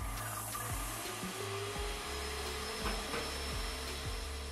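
A home paint sprayer unit runs steadily with a broad, droning motor noise and a faint high whine, punctuated by low thumping pulses as it struggles, apparently unprimed, while working on a home office feature wall.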